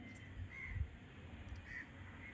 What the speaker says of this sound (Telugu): ఈ పక్షుల శబ్దాలు